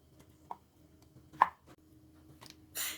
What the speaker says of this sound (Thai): เริ่มด้วยเห็ดฟาง 100 กรัม ครับนำมาหั่นผ่าครึ่งก่อนเลยนะครับ